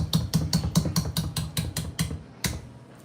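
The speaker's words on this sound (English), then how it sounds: "Obnoxious pounding on the the counter." Someone pounds on a kitchen counter while mixing carrot cake batter. About nine sharp, evenly spaced thumps come close and loud, then slow and stop.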